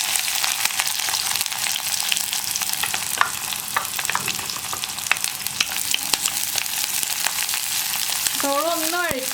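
Sliced onion and a sprig of curry leaves frying in a pan for a pumpkin mezhukkupuratti, a loud constant sizzle with repeated stirring clicks and scrapes, and a brief tonal squeak near the end.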